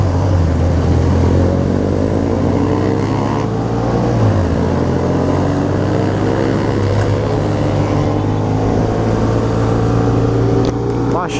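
A motorcycle engine drones loud and close without a break during a group ride of about 200 motorcycles on a hill, its pitch shifting slightly as it moves.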